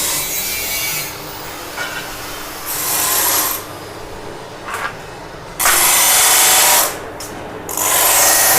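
A lathe cuts threads on parts for a paddy threshing machine in a workshop, producing loud, close bursts of harsh scraping, grinding noise that start and stop several times over a steady machine drone.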